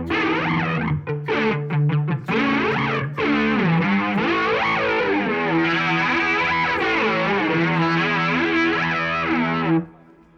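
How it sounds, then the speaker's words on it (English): Electric guitar through a Walrus Audio chorus pedal (MK II) switched to flanger mode, with a sweeping, whooshing modulation over distorted chords and single notes, loud and continuous before cutting off, with no talking. "So it changes to flanger."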